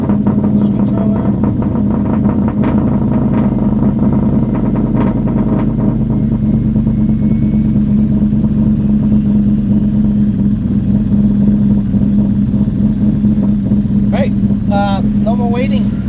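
A turbocharged Ford Cobra engine with a 6R80 transmission idles steadily and loud, a constant low drone with brief revs toward the end, while a person talks over it.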